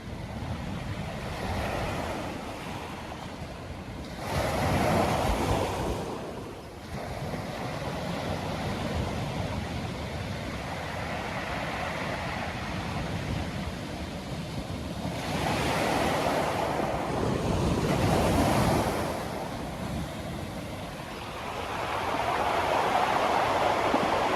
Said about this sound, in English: Come into coherence with these sweet, soft waves.